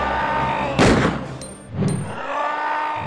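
A handgun fires at a boss in the PS1 game Resident Evil 2, two sharp shots about a second apart over a steady low game background.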